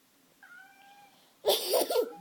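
A cat meows from a played video, first a thin drawn-out mew, then a louder, fuller meow with a wavering rise and fall, heard alone with no talking over it.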